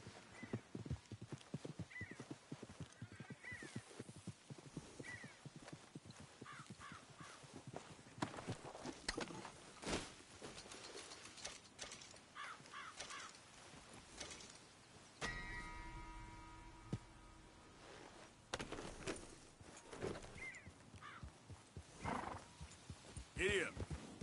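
Horse hooves clip-clop at a quick, uneven pace in a PS4 video game, with a whinny and rustling gear mixed in, close and fairly clear, while a player's voice talks over parts of it.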